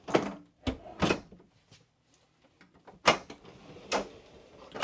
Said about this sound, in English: This is a pocket door for the side bath.